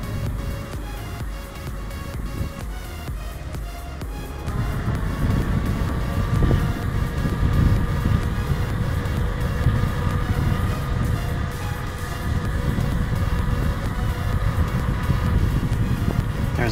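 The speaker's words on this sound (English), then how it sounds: "There's a bit of heavy wind today" Heavy wind buffets the microphone while a Kaabo Mantis Pro SE electric scooter is ridden outdoors. A steady roaring rush fills the whole stretch and grows louder and denser partway through.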